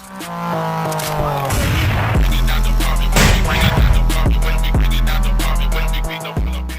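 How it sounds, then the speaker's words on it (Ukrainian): Mortar fire from a Ukrainian defensive position at war, heard as several loud, heavy booms at irregular intervals with sharp broadband onsets over a constant low rumble, with no talk. "міномети в нас хороші, влучно стріляють."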